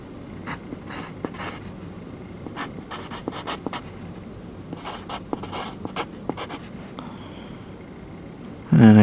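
Pen scratching on paper while capacitor values are written out by hand during preparation for recapping a Teac A-6010 tape deck, a steady run of short strokes and taps, close and fairly quiet, with a brief louder bump at the end.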